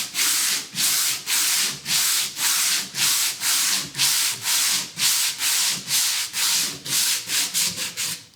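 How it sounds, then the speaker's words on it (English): Hand sanding a wooden bell-shaped sign with steady back-and-forth strokes under firm pressure, a loud, close rasping rub repeating about twice per second, with no voices. "we're gonna go back to our middle sand, sanding it like normal, putting a little bit of weight behind it."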